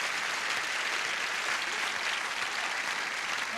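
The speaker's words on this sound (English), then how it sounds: "A little polite applause," Polite studio audience applause on a syndicated Match Game episode, a steady, even wash of clapping lasting several seconds without voices.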